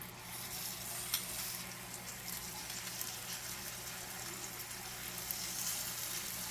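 Shrimp frying in hot oil in a pan, giving a steady, fairly quiet sizzle throughout with a few small pops and crackles, no talking.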